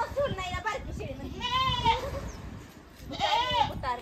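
A small goat gives two clear, wavering bleats in quick succession outdoors, close by and fairly loud.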